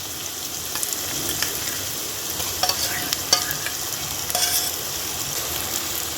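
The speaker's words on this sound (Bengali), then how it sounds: "এখন এগুলো সব কিছু ভাজতে একেবারে লাল লাল করে ভুনা করে ফেলব।" Blended salted hilsa fish with dried chili and garlic frying in a pan, a steady close sizzle with occasional scraping stirs and light clicks of a utensil throughout.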